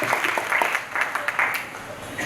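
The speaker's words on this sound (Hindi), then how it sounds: "बहुत जबरदस्त तालियां" Brief, uneven applause from an audience at a network marketing seminar, with scattered claps rising and falling over a few seconds and no voices.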